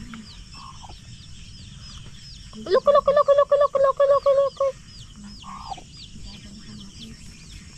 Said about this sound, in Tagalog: yan ang aming mga alagang manok at pato